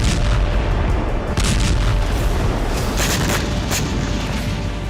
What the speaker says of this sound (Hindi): ऐसा ही धमाका हो